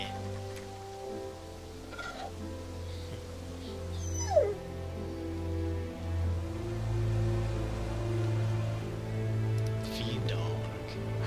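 A dog whimpers and yips in The Walking Dead video game over a steady droning background, with soft rain-like noise and someone talking throughout.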